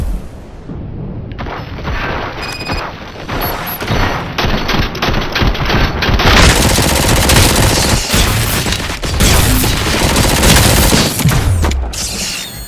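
Heavy gunfire in the RoboCop: Rogue City video game: sustained automatic bursts and booming shots crackle densely and loudly for the whole stretch, with mechanical clanks mixed in and no talking.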